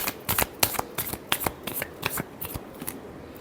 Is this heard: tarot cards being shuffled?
yes